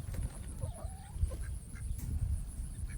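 A rooster, kept alongside ducks, gives a faint, short call over a noisy outdoor background, with a steady high whine running throughout.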